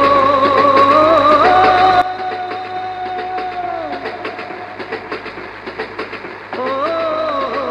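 A train runs along the tracks in a film scene, with a loud, steady rumble and tonal hum giving way to a rhythmic clickety-clack of wheels over rail joints before the drone swells again.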